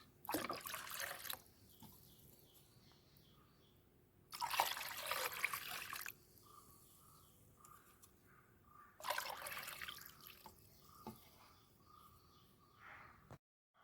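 Curd and asafoetida being mixed into water to make a plant fertilizer: three loud bursts of pouring and sloshing liquid, separated by quieter trickling gaps, with no talk.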